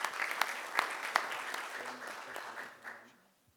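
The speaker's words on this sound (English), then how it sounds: "Let's give them all a round of applause." An audience at a city commission meeting applauds city employees, a burst of clapping from a modest crowd with a few sharp claps standing out, tapering off into quiet over a few seconds.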